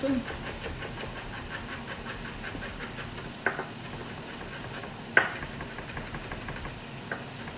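Shallots sizzle quietly in a pan for a mushroom cream sauce, a soft continuous frying hiss broken by a few sharp clinks of a utensil stirring.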